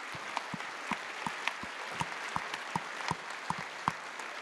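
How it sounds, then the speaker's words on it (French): Audience applause at a French literary book-fair gathering, heard as sparse, scattered claps from a modest crowd, moderately distant and fairly quiet, without any voices over it. "Isabelle Autissier, je vous demande de l'applaudir très fort."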